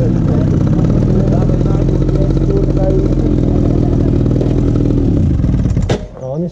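A quad bike's cold engine idles loud and close with steady, dense harmonic rumble and a slight uneven clatter, cutting off abruptly near the end as voices briefly take over.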